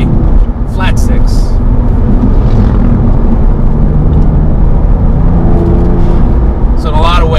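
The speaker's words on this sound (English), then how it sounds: "This is a flat six." A Porsche 997 Carrera 4 flat-six engine idles loudly with a throaty, burbling rumble, close and continuous, while someone talks over it in short bursts.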